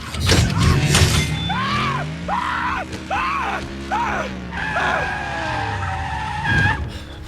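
A car skids with long tire squeals during a near crash in a Transformers film scene, loud and close, with repeated screeching sweeps over engine and impact noise.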